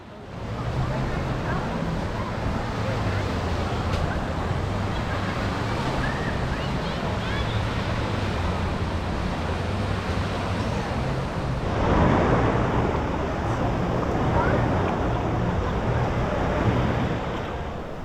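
Water park wave pool at a winter-themed beach, with steady rolling surf and wind noise filling the background, a louder wash of water swelling midway, and people talking faintly beneath.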